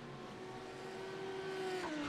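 GT3 race cars in a sim racing game accelerate in a tight pack at Algarve. Engine tones climb steadily and faintly, with a slight tire squeal near the end and no talk.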